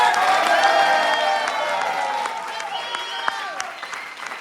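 Audience applause and some cheering at an improv show, a lively burst of clapping that gradually thins and fades, with voices and whoops mixed in.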